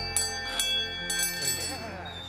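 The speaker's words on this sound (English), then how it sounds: "Did you ring the bell?" Small hand bell rung a few times close by, short bright rings at a steady pace, with children and adults chatting around it.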